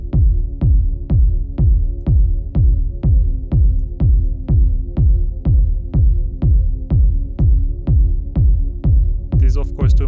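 A deep techno pad treated with flanger or phaser modulation pulses in a steady, evenly spaced rhythm of booming low throbs. It sounds loud and close, with a brief bright swish near the end.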